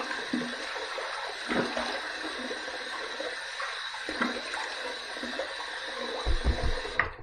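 Water splashing as a face is rinsed after shaving, a continuous running-water hiss broken by several louder splashes, with a cluster of heavier splashes near the end.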